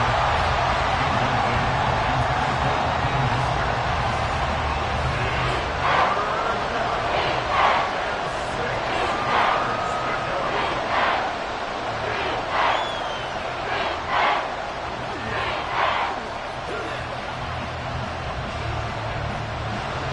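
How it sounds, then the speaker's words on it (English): A stadium crowd at Arrowhead in Madden NFL 24 roars continuously for twenty seconds as a dense, loud wash of noise, with brief louder swells and faint play-by-play commentary underneath. "The Arrowhead crowd in full roar."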